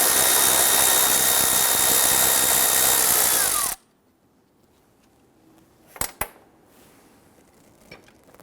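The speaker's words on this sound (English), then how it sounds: "On the top of our expansion tank right here, we have two 10mm bolts. Okay, loosen and remove these." A power tool or ratchet loosens and removes two 10mm bolts from the top of the coolant expansion tank on a 2008-2017 Buick Enclave 3.6L V6. A loud continuous whir stops abruptly, followed by a few sharp clicks in quiet.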